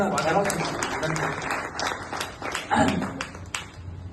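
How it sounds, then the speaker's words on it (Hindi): Applause at a Hindi poetry gathering (kavi sammelan), clapping from the audience mixed with a voice speaking over it and some crowd noise, fairly loud and close. "एक बार जोरदार तालियों के माध्यम से"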